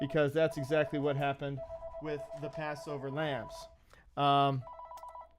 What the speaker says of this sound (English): I don't know if you can hear my phone going off in the back